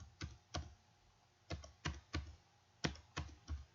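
Number keys are typed on a computer keyboard while entering data into an Excel spreadsheet. The key clicks come in small clusters of sharp taps with short pauses between groups, close and quiet in a still room.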